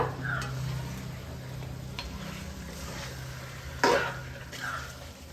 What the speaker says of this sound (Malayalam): ഞാൻ ഇതിലേക്ക് നമ്മൾ ചിക്കൻ ഇടാൻ പോവാണ്. കുറേശ്ശെ ഇട്ട് കൊടുക്കുക.